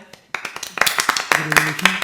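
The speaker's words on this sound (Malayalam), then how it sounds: "എല്ലാവരും ക്ലാപ്പ് കൊടുത്തേ" Students in a classroom clap for a classmate, a short burst of scattered handclaps starting after a brief pause, with voices talking over and between the claps.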